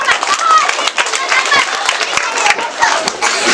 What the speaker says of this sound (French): Il faut les applaudir s'il vous plaît.